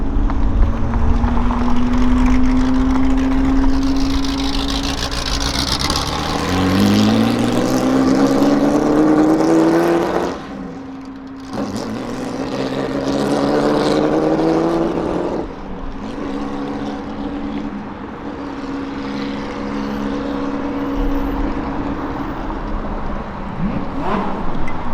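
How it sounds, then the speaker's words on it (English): An old-school Gen 1 Ford GT40, prone to overheating, drives on the road with a loud, throaty engine that rises in pitch through two pulls, briefly lifts off, then settles into a rumbling cruise. "Old school Gen 1 GT40 on the road."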